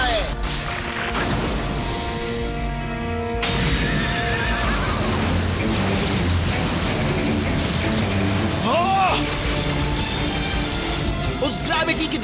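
Anime-style horse neigh for Galaxy Pegasus, the flying Beyblade horse, a rising whinny over a dense, loud battle mix of crashes and music.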